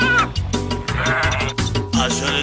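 Sheep bleating loudly and repeatedly at close range, several overlapping wavering calls filling the whole stretch with barely a pause between them.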